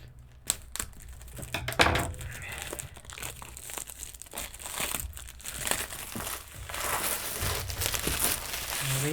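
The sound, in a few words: opening Diamond Art Club kit packaging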